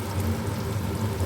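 Onions sizzle in a frying pan with a steady, even crackle throughout, close and moderately loud, with no speech over it.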